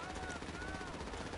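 Video game helicopter: a steady rotor drone with a faint whine running evenly underneath, moderately loud and continuous, with gunfire-like clatter mixed in.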